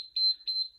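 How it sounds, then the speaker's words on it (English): A workout timer alarm gives two sharp, high electronic beeps, loud and close, each lasting about a sixth of a second, with no voices around them. "So, switch the timer off again."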